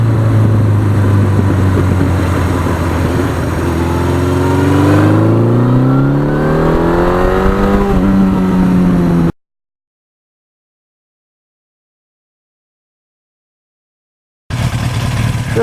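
Suzuki GS motorcycle ride on a salted winter road near a forest, with a loud steady engine drone that revs up through rising gear sweeps, then drops to silence before returning.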